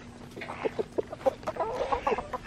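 Farm chickens cluck in a short run of quick, soft calls, fairly close but low in level, with no voices, recorded at a rural homestead where pigs are also kept.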